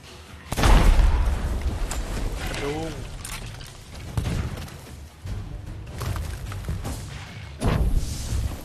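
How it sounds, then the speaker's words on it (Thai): Explosions in the pirate game Sea of Thieves: a loud booming blast bursts out near the start and further heavy thumps follow through the clip, mixed with rumbling game noise and people talking over it. "ระเบิดตกใจเลย"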